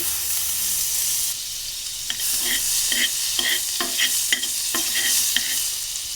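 Unsalted butter sizzles steadily in a pan while being stirred for paneer fried rice, with a soft frying hiss and a run of light scraping strokes partway through, close and moderately loud, no talking.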